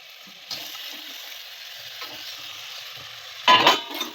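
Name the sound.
Manchurian balls added to a frying pan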